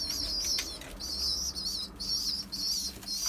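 Young pigeons flap their wings in a loft in repeated bursts of fluttering, close by, with high chirping calls over the top and short gaps between bursts.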